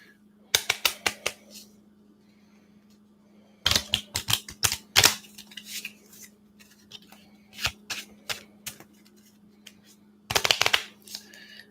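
Tarot cards being shuffled in quick riffling bursts, separated by pauses, over a faint steady hum.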